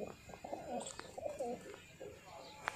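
Mulla ji breed homing pigeons coo close by in soft, throaty, repeated calls that rise and fall over a quiet background.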